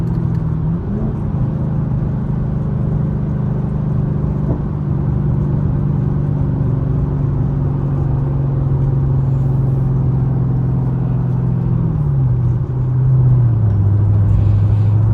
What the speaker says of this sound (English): I hear them downshifts.